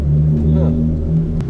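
Straight-piped Hyundai Genesis engine held at a loud, steady high rev, a dense continuous exhaust roar that barely dips over the short stretch.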